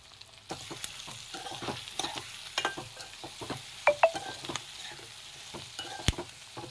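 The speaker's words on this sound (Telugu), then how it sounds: "ఉడికించుకున్న బంగాళదుంపలను కూడా వేస్తున్నాను. ఇవి కొంచెం ఆయిల్లో ఫ్రై అయ్యేంత వరకు ఉంచాలి." Boiled potatoes fry in oil in a pan for a potato and green chilli curry, giving a steady close sizzle broken by scattered stirring scrapes and clinks throughout.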